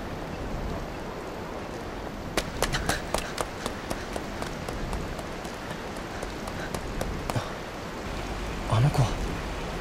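Heavy rain from an approaching out-of-season typhoon in the PS2 game Blood: The Last Vampire, a steady hiss of downpour with scattered sharp drop taps and a brief low sound near the end.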